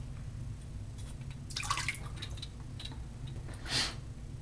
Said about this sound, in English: Rinse my hand. Sorry about the water.